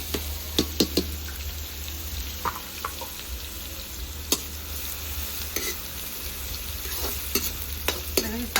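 Cumin, garlic, onion and ginger frying in a pan over a Punjabi clay stove give a steady sizzle, broken by sharp scrapes and clacks of stirring scattered throughout, heard near and alone.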